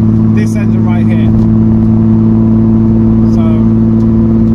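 Struggling, overheated Toyota Aygo engine revs steadily with a strong low drone throughout, heard from inside the car with a voice talking over it.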